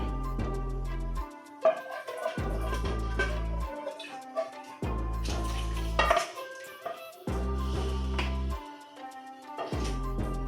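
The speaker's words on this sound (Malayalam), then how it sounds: "കപ്പും ഈ പാത്രം കൂടി ഒന്ന് കഴുകിയിട്ട് അതിനകത്തേക്ക് ഒഴിക്കാൻ പോവുകയാണ്." A cup and a cooking vessel are washed in a kitchen while jackfruit payasam is being made, with steady bursts of running water broken by short pauses and light clinks of dishes, close up and without talk.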